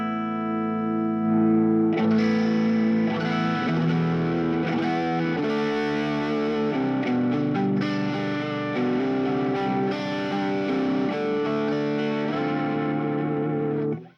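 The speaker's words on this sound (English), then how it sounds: "If you edge it up a little bit, it'll start to go into that kind of creamy saturation" Electric guitar through a valve amp set about halfway, pushed into smooth, creamy overdrive; sustained strummed chords ring loud and steady with a warm, saturated tone, no talking.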